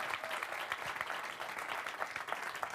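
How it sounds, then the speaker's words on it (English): A town hall audience applauds steadily, a dense wash of many hands clapping at moderate volume for the whole stretch. "give him a round of applause"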